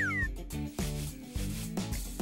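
A pet cat meows several times in a row, close and fairly quiet, with short drawn-out cries.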